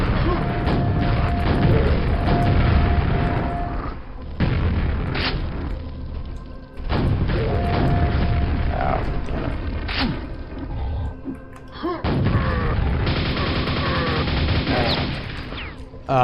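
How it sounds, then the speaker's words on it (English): Grenade launcher fire in Quake: repeated heavy blasts and booming explosions in bursts separated by short lulls, loud and close, with crashing impacts mixed among them. "What is this? Grenade launcher."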